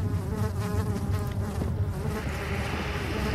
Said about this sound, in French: Alors, mais arrêtez les mouches là!